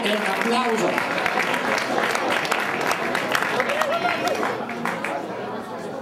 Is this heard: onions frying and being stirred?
no